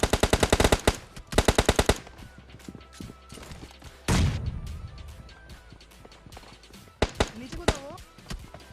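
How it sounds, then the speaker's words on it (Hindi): Rapid bursts of automatic gunfire crack in quick rhythmic volleys, with a heavier blast midway and more shots near the end, under game sounds and occasional talk. "हाँ गोलियां अभी चली है वहाँ पे"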